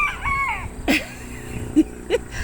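A rooster crows several times, clear and fairly close, with short clucking calls between the crows and no talk over them.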